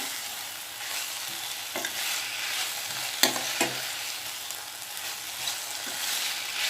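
Bottle gourd curry for a buttermilk stew simmers in a pan in its own released water, a constant close sizzle and bubble with a few soft spoon taps.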